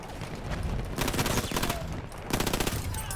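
Rapid automatic gunfire in Battlefield 1, two loud sustained bursts of fast, evenly spaced shots separated by a brief lull.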